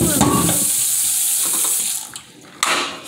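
Water rushes steadily as a fish tank is filled, a continuous hissing pour that briefly drops away and then resumes loudly near the end.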